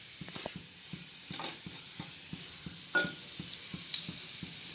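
Cumin seeds and garlic crackle in hot oil in a kadhai over medium heat, a quiet sizzle broken by sharp, regular ticks and pops, with a few louder snaps near the end.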